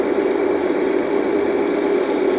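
Car engine humming steadily while driving, a constant mid-pitched drone with faint vibration, loud and close throughout with no voices.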